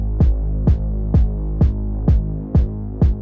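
A music loop is pumped by multiband sidechain compression, with a short duck on the mids and a longer one on the lows. Steady bass and pads dip in rhythm under seven punchy kick hits, loud and close.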